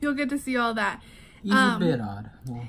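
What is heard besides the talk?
No everyday noise stands out behind the speech.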